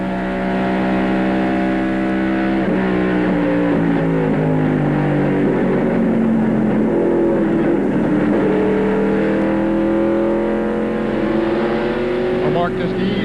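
Stock race car roof camera view at Darlington in 1995 during the Gatorade 200, a loud steady engine drone with pitch sliding down and back up as the car slows and accelerates, continuous and close, no talk over it.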